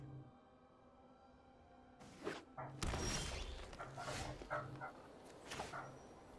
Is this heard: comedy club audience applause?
no